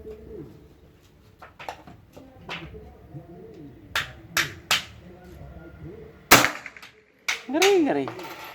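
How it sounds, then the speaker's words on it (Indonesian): One sharp shot from a PCP air rifle snaps out amid pigeons cooing nearby and a few other faint clicks and taps. "Tembakan terakhir."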